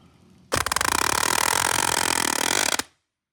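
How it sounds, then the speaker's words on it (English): A palm nailer driving nails into roof sheathing on a house under construction, giving a loud, close, rapid-fire hammering buzz that runs for about two seconds and then stops abruptly. "You just use the palm nailer."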